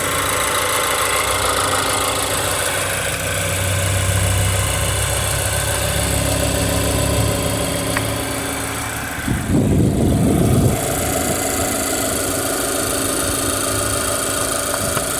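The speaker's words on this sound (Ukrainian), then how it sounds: "Чудово працює двигун." A 2020 Mazda 3 engine idles steadily, a continuous low hum close by with no talking, broken by a short burst of louder noise near the end.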